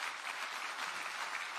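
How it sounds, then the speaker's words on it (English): Round of applause from a conference audience at a defence forum in Warsaw as a minister is welcomed on stage; dense, even clapping, steady and fairly distant, with no voices over it. "Big round of applause, please."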